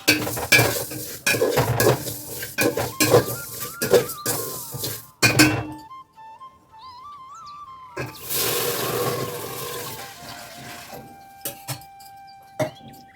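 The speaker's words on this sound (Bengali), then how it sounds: "এবার এখানে মশলাটা ভালো করে কষিয়ে নিই" Spice masala being sautéed and stirred in a pan for khichuri, heard as busy clattering and scraping of a utensil on metal with a soft sizzle underneath, then quieter stretches with faint tones and scattered clinks.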